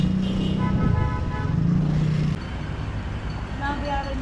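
Cars and motorcycles streaming past on a busy road near a corner, a continuous loud traffic wash with engine drones and a horn toot, while someone talks over it.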